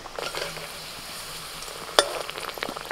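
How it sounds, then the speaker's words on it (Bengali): A homemade mutton cutlet frying in hot oil gives a soft, steady sizzle close by, with a single sharp metallic clink partway through. "তেল গরম হয়ে গেছে, একটা ছেড়ে দিলুম কাটলেট।"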